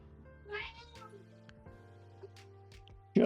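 A grumpy cat gives a few short meows under background music and game sounds, with one sharp louder cry at the end.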